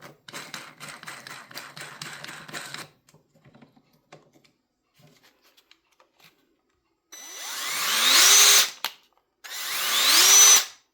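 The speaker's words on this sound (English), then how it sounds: "And then the drill." A Craftsman cordless drill first gives about three seconds of rapid ratcheting clicks, then falls quiet before two close, loud bursts of motor whine that spin up and stop abruptly.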